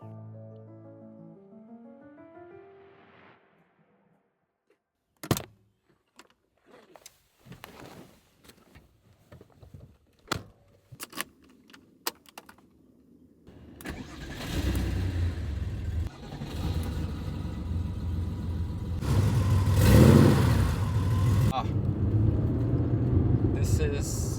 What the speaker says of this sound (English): We're just going to start the car and get out for a little drive together